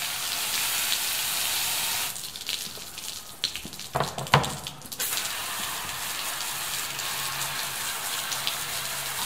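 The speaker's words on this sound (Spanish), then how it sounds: "Ahí estoy tirándole todo el chorro de la manguera." Garden hose jet spraying hard onto a 50W Croled LED floodlight outdoors in a patio, a steady close hiss of water spray with a brief break and a few louder splashes midway before the spray resumes.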